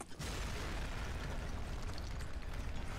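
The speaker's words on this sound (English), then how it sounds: "We wait for the bomb to blow up the building, I think." Bomb blowing up a building in Zombie Army Trilogy, a massive sustained explosion rumble with crumbling debris, loud and continuous after a brief quiet start.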